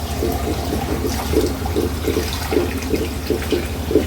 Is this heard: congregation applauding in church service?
no